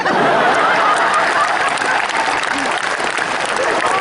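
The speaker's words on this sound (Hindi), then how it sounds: "और ताली तो आप इस बात पर बजाएंगे" An audience at a talk by a speaker at IIT Kharagpur in 2011 claps steadily and loudly throughout, with some light laughter mixed into the dense applause.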